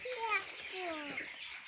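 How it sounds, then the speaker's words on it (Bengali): Small desi chicks and chickens at a home poultry setup make close, soft chirping peeps and clucks in quick rising and falling calls, with faint background noise. "মুরগিগুলোর শব্দ আমি ওই দিক থেকে পাইতেছি"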